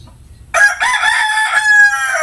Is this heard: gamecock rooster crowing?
yes